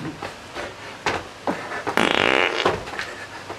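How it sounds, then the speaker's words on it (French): A person jumping lets out a loud, buzzy fart lasting about half a second, set among thumps and rustling movement with no talking over it. "je crois que j'ai pété plus haut que mon cul"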